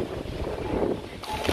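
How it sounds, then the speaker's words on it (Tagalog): Strong wind blows outdoors on a trip through the Netherlands, roaring and gusting steadily against the microphone with heavy low buffeting and no speech. "Lakas ng hangin, no?"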